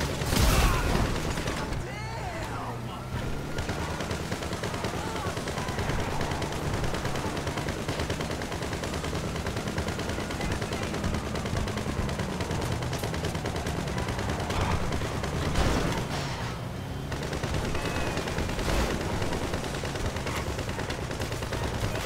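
Mounted guns on the Mirage vehicle fire in GTA 5 Online, a dense, sustained barrage with occasional louder booms under a steady engine roar, while someone talks over it throughout.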